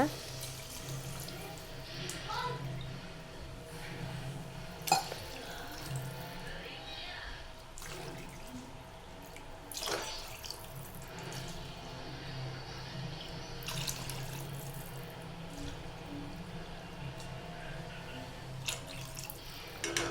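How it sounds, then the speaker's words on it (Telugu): Water pours and splashes into a pot of egg biryani in a continuous stream, with a few sharp clinks of utensils along the way. "క్లోజ్ చేసిన కొద్దిసేపు తర్వాత మళ్ళీ ఓపెన్ చేసి వాటర్ అయితే యాడ్ చేసుకోవాలన్నమాట"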